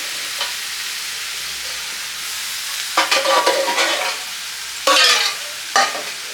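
Spices sautéing in a pan for a Chaitra Sankranti home meal: a soft sizzle with several sharp bursts of spatula scraping and stirring, close and with no voices.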